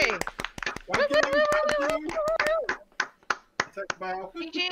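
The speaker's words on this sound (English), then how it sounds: "So a round of applause for Johnny." A small group claps sharply and unevenly, with loud close hand claps mixed with cheering and excited voices.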